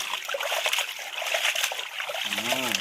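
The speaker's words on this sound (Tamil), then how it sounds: "ஈரல் நல்லா கழுவி எடுத்துக்கலாங்க" Water splashes and trickles steadily as chicken liver is rinsed by hand, a continuous wet spatter close by, with a voice speaking briefly near the end.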